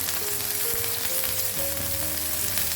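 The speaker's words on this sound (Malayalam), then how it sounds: "1 ഉള്ളിയുടെ 1/4 ഭാഗം ചെറുതായി അരിഞ്ഞത്, വാട്ടിയെടുക്കും." Chopped onion sizzles and fries steadily in a hot pan, loud and close with a constant hiss throughout and no talking.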